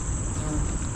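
A bee buzzes close by near a small nest on a mountain nature trail, a brief continuous drone over outdoor insect chatter, with no talk.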